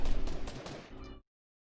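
Gunfire in the video game Fortnite, a quick burst of loud, sharp shots in close succession that cuts off abruptly into silence.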